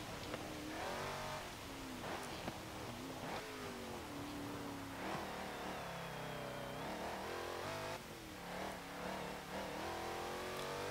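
A 2016 Jeep Trailcat in Forza Motorsport 7 revs hard and accelerates, its engine pitch climbing and dropping through repeated gear changes, loud and continuous with no talking.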